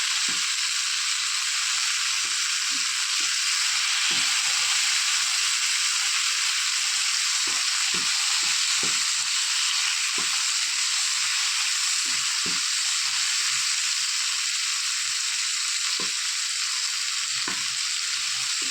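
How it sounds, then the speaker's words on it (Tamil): Tomatoes sauté in hot oil for a brinjal and dry fish gravy, making a bright continuous sizzle with scattered spatula taps and stirring knocks over almost twenty seconds, with no voices. "தக்காளியை போட்டு நல்லா வதங்கட்டும்."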